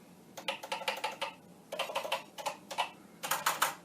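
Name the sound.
typing on a Commodore VIC-20 keyboard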